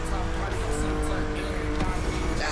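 A yellow convertible races in the Motorfest video game, its engine roaring steadily alongside another yellow convertible, with a voice talking over it throughout.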